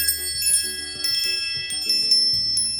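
A voice imitates wind chimes with a string of clear, ringing, bell-like tones that overlap and shift in pitch. The tinkling is close and moderately loud, with no talking.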